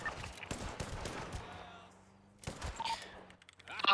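Rapid bursts of automatic gunfire from a roleplay video game crackle in quick volleys, with a voice talking over parts of the shooting.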